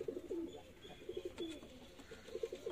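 A pair of dab pigeons cooing close by, soft rolling coos that come in repeated short bursts over a quiet background, with no talking.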